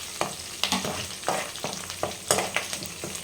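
Curry leaves and dried red chillies fry in hot oil in a pan for puliyogare gojju, a steady close sizzle broken by repeated scraping stirs in an uneven rhythm, with no talk.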